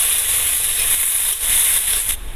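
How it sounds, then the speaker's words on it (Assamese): Chopped onions fry in a pan with a constant, fairly loud hiss and sizzle lasting the whole clip, with no one talking. "এনেকৈ মোৰ পিঁয়াজ ভজা হৈ গ'ল"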